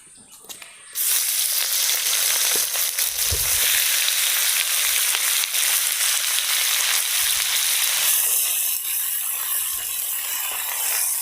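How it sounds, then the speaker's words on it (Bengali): Chicken meat frying in oil with salt, a brief quiet moment giving way to a loud, continuous sizzle with occasional stirring clatter throughout. "তেলে একটু লবণ দিয়ে দিব, মাংসটা ভেজে নিব।"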